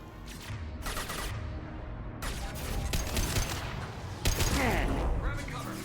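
Gunfire in Mass Effect during an insanity-difficulty run: rapid bursts of shots crackle in clusters over a loud, busy combat backdrop, with a voice briefly heard amid the noise.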